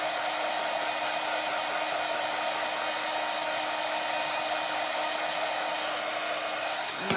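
A hair dryer blows steadily, drying paint on a foam Easter egg, with a constant close whir that runs without a break and cuts off near the end.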